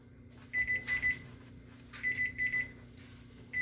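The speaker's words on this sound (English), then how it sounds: "you heard the buzzer" While pork ribs in Korean kalbi sauce are baking, the oven timer buzzer goes off: groups of three to four high electronic beeps in a steady pulsing rhythm, repeating after short pauses over a low background hum.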